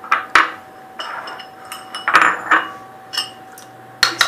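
A spoon clinks and scrapes against a bowl while mixing mayonnaise ingredients such as egg, oil and white vinegar, giving sharp irregular taps and short scraping strokes, close and fairly loud, with no talking.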